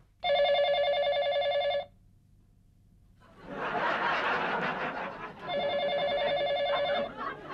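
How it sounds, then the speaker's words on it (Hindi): A telephone rings in two long electronic trills, separated by a burst of noisy rustling and muffled chatter. "तभी फोन की घंटी बजती है।"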